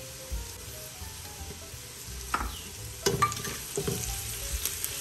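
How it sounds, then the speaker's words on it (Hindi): Ginger garlic paste frying in a pan with lightly softened onions for mutton karahi, a steady low sizzle with a few louder scraping stirs partway through and near the end, no voices. "अदरक लहसुन का पेस्ट डाल रहे हैं,"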